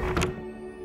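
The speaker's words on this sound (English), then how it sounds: "close the door and one smooth move. Bang." A closet door in a hotel room shuts with a single short, dull thunk near the start and then fades.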